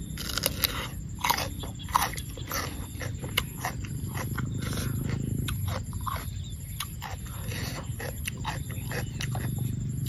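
Snails (Thai river snails) being chewed with a crisp crunch, repeated biting crunches close to the mouth over a steady low background, no talk.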